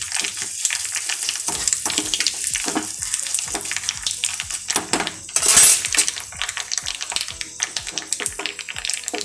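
Mustard seeds and asafoetida tempering in hot oil, a close crackle of popping seeds with sharp sputters and a brief louder hiss near the middle.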